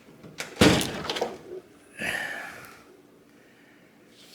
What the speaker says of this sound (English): still hard to shut the door, but it's getting better